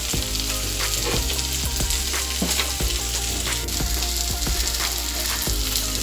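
Tomatoes sauté with a pinch of asafoetida in a pan for okra sambar, a close, lively sizzle punctuated by sharp clicks and scrapes of stirring, steady for six seconds.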